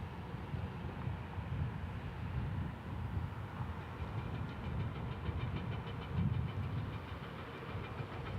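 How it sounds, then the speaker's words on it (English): Southwest Airlines jet departing Kansas City International Airport bound for Las Vegas, a steady broadband engine roar with low rumble, sustained and fairly distant throughout with no talk. "Departing next, looks like it'll be Southwest 4530 going to Las Vegas."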